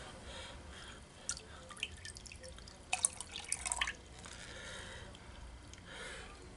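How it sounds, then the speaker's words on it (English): Water dripping and splashing as a gold display pan is rinsed at close range, with a cluster of louder splashes mid-way over a soft background wash. "And I'm going to rinse that."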